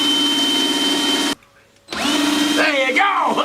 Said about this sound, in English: Let's spin up the drill and see if we can get that panel to light.